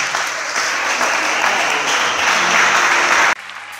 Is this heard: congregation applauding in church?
yes